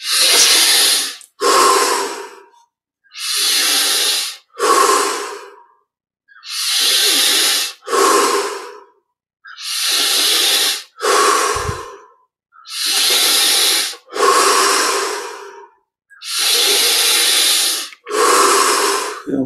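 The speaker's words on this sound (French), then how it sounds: "On augmente progressivement l'amplitude des respirations." Slow, deep yogic breathing during a guided meditation practice, each full inhale and exhale a broad airy rush, repeated evenly about ten times with short pauses between, close and steady.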